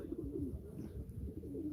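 Pigeons at a live pigeon auction coo softly and continuously in overlapping throaty, rolling calls, several birds close together, with a quiet backdrop and no clear speech.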